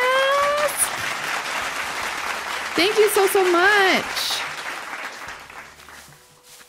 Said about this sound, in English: let's get some hype and some claps for